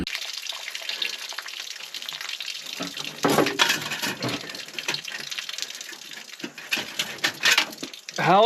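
Rainwater draining out of a pulled engine intake boot on a 10x10, splashing and pattering close by in uneven gushes, with handling noises and a voice partly over it.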